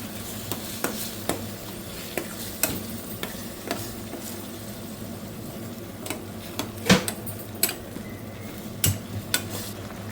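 Chili powder is mixed into a mutton-style curry in a pan, with repeated spoon clicks and scrapes against the pan over a low sizzle, no talk.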